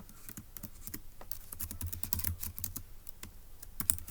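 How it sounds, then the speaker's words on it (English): Computer keyboard typing, taken down as notes during a daily Turing Machine logic puzzle: a steady run of quick, light key clicks at close range, with a few louder taps standing out, and no voices. "let's go ahead and type that up in our notes in section E"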